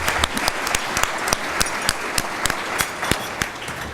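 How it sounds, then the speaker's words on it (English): An audience applauds its speakers in a ballroom, a steady wash of many hands clapping with sharp individual claps standing out, moderately loud throughout. "Let's give them another round of applause."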